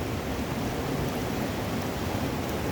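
A river flows steadily close by, a broad continuous wash of water noise with no pauses and no speech.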